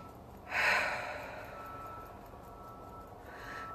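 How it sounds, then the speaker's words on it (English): A slow, audible breath in and out near the listener, swelling early then easing into a long soft exhale, with a faint second breath at the end, while tapping above the eyebrows. "as you're tapping, you're taking deep breaths"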